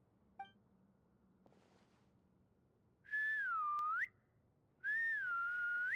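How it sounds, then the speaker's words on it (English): Two long, loud whistled tones in the Genshin Impact video game, each about a second long with a wavering dip in pitch, separated by quiet, following a brief faint blip. "Whistling?"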